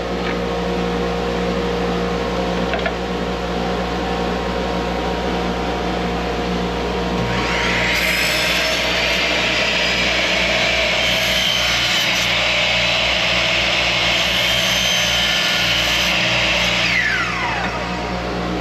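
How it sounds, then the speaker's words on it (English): A miter saw set to 45 degrees cuts wood for a wall frame: the motor spins up loud about midway, whines steadily through a long cut, then winds down, over a constant low background hum. "I've gone ahead and adjusted my miter saw to 45 degrees."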